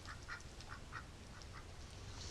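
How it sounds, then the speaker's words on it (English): A small duckling with a limp quacks repeatedly in soft, rapid peeps, a string of faint, close calls spaced unevenly over quiet background noise. "poor little duck"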